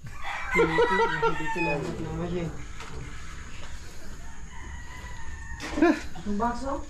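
A rooster crows loudly and close by while other chickens cluck and call, with people talking in the background throughout.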